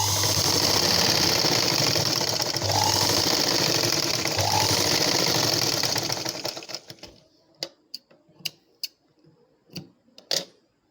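Sewing machine stitching two lines of darts on a blouse runs as a close, steady whirring drone for about seven seconds, then stops and gives way to a few sharp, separate clicks and ticks.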